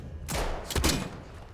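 Gunfire in the video game Atomfall, heard as a loud burst of shots with a sharp double blast in the middle, followed by a fading tail.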